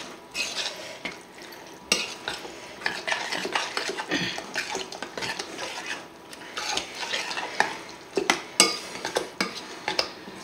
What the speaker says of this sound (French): de crème fraîche. Là. Et on remue.